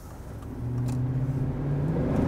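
A Chevy Avalanche V8 engine with a four-speed automatic builds from a low rumble into a rising, steady drone as the truck accelerates, heard from inside with no talking.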